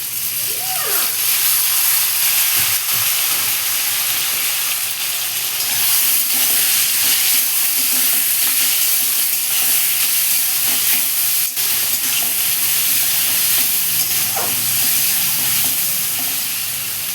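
Onion and tomato pastes frying in a pan with fried potato and eggplant make a loud, continuous hissing sizzle that stays constant throughout, with occasional faint stirring scrapes.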